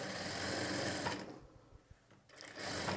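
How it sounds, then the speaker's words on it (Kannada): Sewing machine stitching a pointed stitch along fabric piping, a steady close whirring run that stops briefly mid-way and then resumes, with no voices. "ನೀವು ಡೈರೆಕ್ಟಾಗಿ ಒಂದು ಪಾಯಿಂಟೆಡ್ ಹೊಲಿಗೆನ ಈ ರೀತಿ ಸ್ಟಿಚ್ ಮಾಡ್ಕೊಳ್ಬೋದು"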